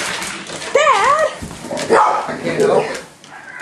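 Puppies yip, whimper and bark in short rising-falling cries close by, mixed with children's talk and shouts around them.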